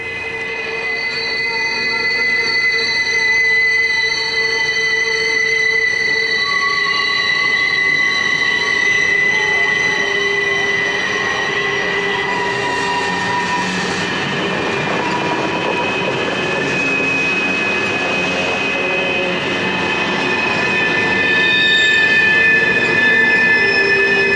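A long freight train hauling thirty John Deere tractors east through Pennsylvania rumbles past, its wheels squealing in high sustained tones with occasional clickety-clack, loud and steady for over twenty seconds.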